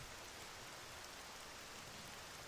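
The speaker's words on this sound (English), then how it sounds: "Is the rain slowing down?" Rain in the survival video game SCUM, a faint even hiss of steady rainfall on surfaces, continuous and unchanging, with no voices.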